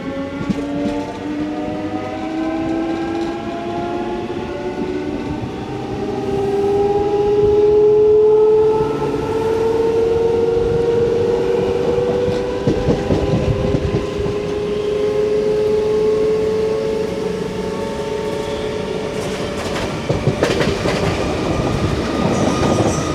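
A MEMU passenger train rolls along the rails and fills the carriage with a loud, steady rumble and clatter. A rising whine of motors runs under the noise, with sharper rattles of the wheels toward the end.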